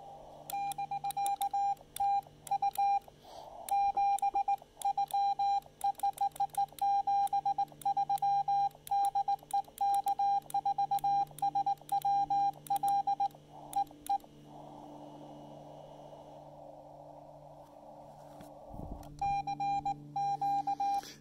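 Morse code CW beeps from a memory keyer on a ham radio during a portable field operation, sent as rapid repeated tone bursts in steady rhythmic patterns with a short stretch of static hiss partway through; no voices.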